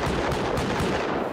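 An auto turret in the survival game Rust fires a rapid, continuous stream of loud gunshots. The burst is close and sustained through the whole short moment.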